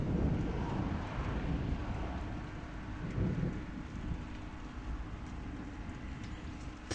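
Thunderstorm outdoors, with steady heavy rain and a low rumble of thunder swelling around the middle, plus gusts of wind buffeting the microphone; no voices.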